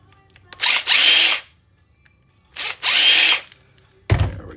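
Two bursts of a power drill, about a second each, back out screws from a desktop computer case during a scrap teardown, followed by a short clunk near the end. No one speaks.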